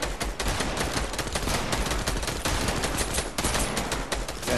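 Dense, continuous automatic gunfire from the video game Fortnite, loud and close, with rapid overlapping shots filling the whole stretch without pause and no talk over it.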